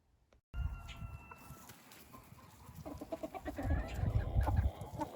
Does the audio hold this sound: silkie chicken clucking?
yes